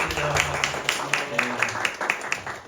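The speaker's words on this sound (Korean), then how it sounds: "우리 모인 여러분들 위해서 우리 격려의 박수 하겠습니다" A church congregation claps in encouragement at a mission school gathering, giving rhythmic, fairly steady applause with a voice heard over it.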